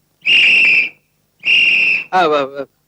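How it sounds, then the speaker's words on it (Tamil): A person whistles two sustained, piercing notes at close range, then a short wavering, warbling whistle, with brief silences between them. "விசில் எனக்கு ரொம்ப பிடிக்கும்."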